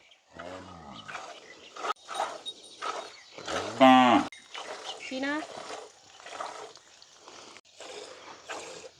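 Cattle on a village farm at milking time, lowing repeatedly in loud, drawn-out moos close by, with one especially strong bellow midway and other animal calls and voices mixed in between.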